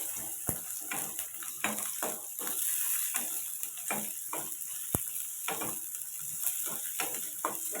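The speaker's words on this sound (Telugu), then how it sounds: "లైట్ పిల్లగడ్డలు తర్వాత అల్లం ఇవి మనకి మంచిగా ఫ్రై అవ్వాలి" Sliced onions and ginger frying in a pan for a paya curry, with a steady close sizzle broken by repeated stirring scrapes and occasional sharp clicks.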